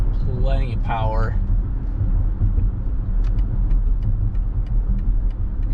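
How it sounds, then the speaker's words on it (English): 2023 BMW X5 sDrive40i driven around the block at half pedal: a steady, low engine and road rumble throughout, with a brief voice near the start. "we just kind of spin these around the block, give them just about half pedal, show you just kind of everyday driving"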